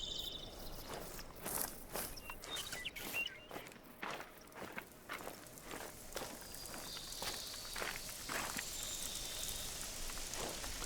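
Rain falls steadily in a hunting video game, an even hiss of drops on the ground with scattered soft patters and rustles throughout, alone without speech.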